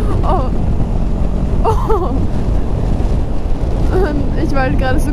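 Strong wind buffets the microphone in a constant loud rush while riding a motorbike through curves, with someone talking and exclaiming over the roar.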